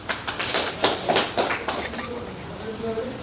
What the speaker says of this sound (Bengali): সবাই একটা করতালি দাও